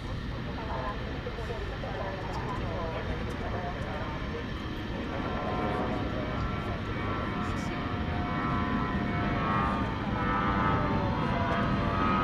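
A United Airlines airliner in old livery passes at night at Dallas Fort Worth airport, a moderate jet engine rumble swelling gradually toward the end, with a voice talking over it.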